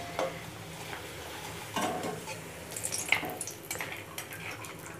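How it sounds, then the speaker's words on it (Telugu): Rice flour papads frying in hot oil, a soft sizzle with a few sharper crackles and stirring touches, close but quiet. "ఇప్పుడండి నూనె వేడెక్కింది కదా మనం ఇవి నూనెలో వేయిద్దాం"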